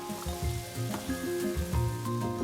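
Onion and pepper strips sizzling in a hot stir fry pan for a Szechuan dish, a steady close crackling hiss with occasional stirring scrapes and music playing underneath.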